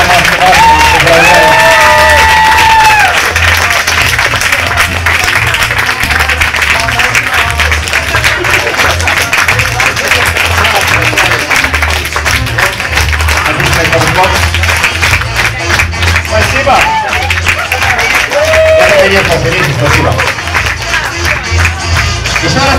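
Sustained, loud audience applause with scattered cheers and whoops fills an award ceremony for an Israeli Mafia game championship, dense clapping running throughout with voices mixed in.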